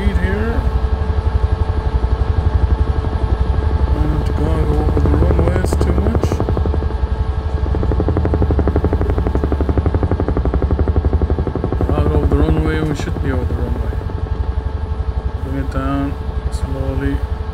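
A helicopter in Microsoft Flight Simulator flies in and comes down toward a helipad, its rotor chopping rhythmically and loudly throughout while someone talks over it.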